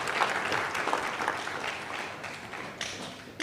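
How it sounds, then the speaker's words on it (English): An audience applauds contestants at an Anambra APC party primary election results announcement, a dense burst of clapping from a crowd that swells and fades over a few seconds. "so we will clap for all the contestants."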